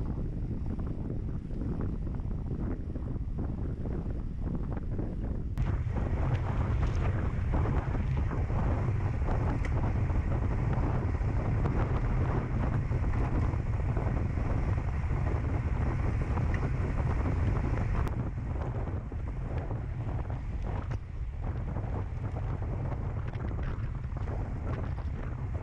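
Strong headwind roars steadily across the microphone during a cycling race in the Viking 76 event, a dense continuous buffeting rush that swells in the middle and eases slightly near the end, with no voices.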